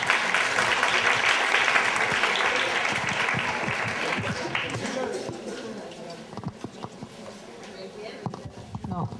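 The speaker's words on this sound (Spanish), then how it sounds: "Un fuerte aplauso." Loud applause from a conference audience fills the first half, then thins out into scattered claps and faint noises as it fades.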